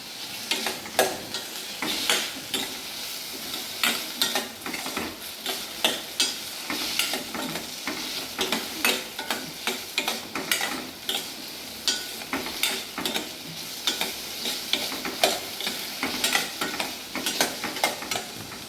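Onion and tomato fry in a pan for egg kothu parotta, sizzling steadily up close under frequent rhythmic scraping and stirring strokes throughout.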